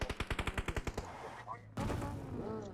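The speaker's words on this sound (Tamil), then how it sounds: "இங்க இருந்து புல்லட் வருது." Rapid burst of automatic gunfire in a shooting video game, about ten evenly spaced loud shots, then a pause and a sustained rushing game noise.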